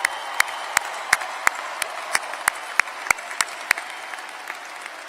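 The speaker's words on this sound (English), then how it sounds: "A round of applause again for our graduates." A commencement ceremony audience applauds its graduates in a steady, moderate wash of clapping, punctuated at a regular pace by sharp, prominent claps close by.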